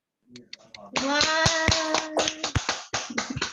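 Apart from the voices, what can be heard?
audience clapping to welcome the author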